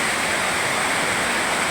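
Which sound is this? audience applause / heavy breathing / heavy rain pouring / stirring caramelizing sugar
heavy rain pouring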